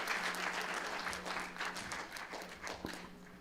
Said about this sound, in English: If you can give them a round of applause and welcome them up.